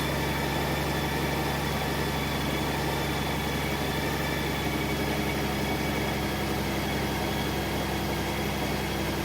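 A Goldwing motorcycle engine idles steadily and loudly nearby during warm-up, a constant low rumble with faint vibration and no other sounds.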